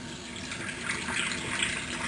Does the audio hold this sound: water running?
yes